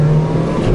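A 2010 Ford Focus 1.4 80 hp with manual gearbox pulling gently in first gear at low revs, a steady droning engine hum heard from inside the car, brief and fairly loud.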